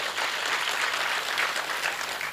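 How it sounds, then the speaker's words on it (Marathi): A seated audience at a devotional Swami katha gathering claps steadily and densely, a continuous even wash of many hands at moderate volume with no break. "संतोषजींसाठी जोरात टाळ्या वाजवा।"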